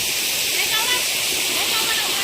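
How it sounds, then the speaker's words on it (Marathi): Water gushing steadily at a stream by the Yedeshwari Mata temple in Desode village, a loud, unbroken rushing roar heard close up. "हे बघा जलगंगा वाहते कशी मस्त पाणी"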